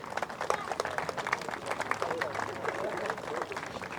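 Crowd cheering and applauding at a British national RC car racing event in Southport, UK, a dense run of claps and cheers that holds steady for several seconds as drivers are introduced.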